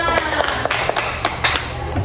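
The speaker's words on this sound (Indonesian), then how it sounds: "beri tepuk tangan untuk kita semua" A classroom of students claps together in a short burst of quick, uneven hand claps heard up close, with some voices underneath.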